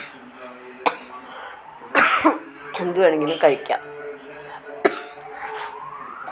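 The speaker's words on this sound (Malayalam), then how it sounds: "പെട്ടെന്നൊരു ചുമ വന്നു എനിക്ക്." A woman in a shopping mall coughs and clears her throat in a few sharp bursts, close and loud, mixed with her own speech.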